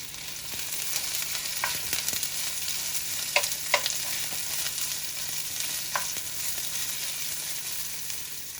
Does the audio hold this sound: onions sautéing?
yes